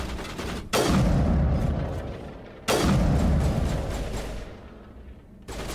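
Heavy gunshots boom in the video game Mass Effect Legendary Edition: two big, close blasts a couple of seconds apart, each fading into a long rumbling tail, then a third hit at the very end.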